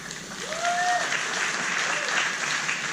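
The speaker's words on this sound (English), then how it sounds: "Please keep that applause going" A live stage-show audience applauding: dense, steady clapping that fills the room, with a voice heard over it.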